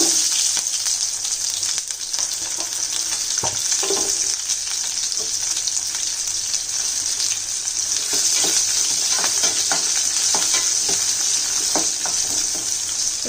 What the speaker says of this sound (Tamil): இதெல்லாம் அரைக்கிறதுக்கு தான் இப்போ போட்டு வதக்கிட்டு இருக்கேன்